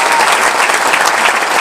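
Audience at a tenth-anniversary celebration applauding loudly and steadily, a dense wash of many hands clapping close by throughout the short stretch.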